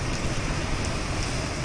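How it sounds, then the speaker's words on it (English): Heavy rain driven by wind during a Thursday-night storm in Narragansett, a steady dense hiss with low rumbling underneath, loud and continuous throughout with no voices. "Mother Nature wasting no time, bringing wind, rain, and rough surf to Narragansett Thursday night."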